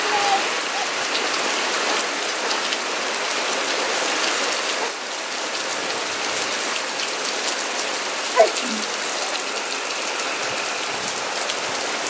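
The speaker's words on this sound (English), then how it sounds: "It's rain." Steady rain falling on surfaces, a dense even hiss close by, with a brief faint squeak partway through.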